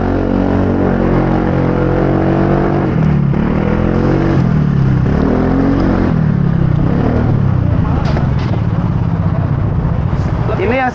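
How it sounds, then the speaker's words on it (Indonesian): A Scomadi scooter on its stock exhaust runs steadily while being ridden, a loud continuous engine drone that rises and falls with throttle, with a rider talking over it. "Ini suara knalpot bawaan yang masih dari sononya ya."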